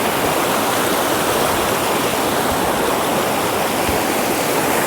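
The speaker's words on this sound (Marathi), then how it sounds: "पाणी बघा किती आहे खतरनाक पाणी एकदम स्पीडमध्ये" A loud, steady roar of a fast-flowing, rain-swollen forest river rushes without pause, close and constant.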